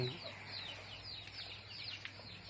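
Domestic chickens cluck faintly in a farm pen on a backyard village poultry farm, with soft, scattered calls over a low, steady background hum.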